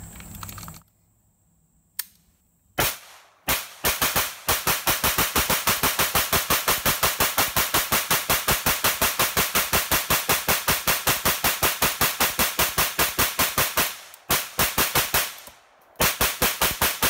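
A PSA AK-P pistol fed from a 75-round KCI drum fires a few opening shots, then long rapid strings of loud, sharp reports in a relentless rhythm, broken by two brief pauses.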